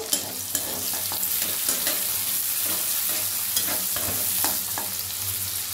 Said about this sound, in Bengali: পেঁয়াজটাকে একটু ভেজে নেব।